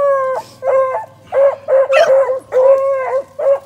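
A puppy gives a close, loud series of about eight short barks and yips in quick succession, each sharp and slightly whiny, with brief gaps between them.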